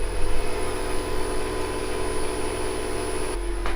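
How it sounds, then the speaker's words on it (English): A reverse osmosis machine running to concentrate maple sap gives a steady, loud mechanical hum with a constant whine, like a pump or motor drone, holding unchanged throughout with no voices. "I'm gonna turn the RO on and start concentrating some sap"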